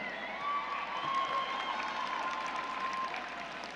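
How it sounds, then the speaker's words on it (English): At a 2018 high school graduation ceremony, the graduating class and crowd applaud their parents, friends, family and coaches, a broad roomy wash of clapping mixed with cheering and a faint sustained whistle-like tone, steady throughout. "Class, let's give them a round of applause."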